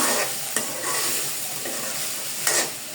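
Chickpeas frying for Bengali chola bhuna, stirred in a pan with a low constant sizzle broken by a few distinct spatula scrapes and clacks against the metal, close by, no talking.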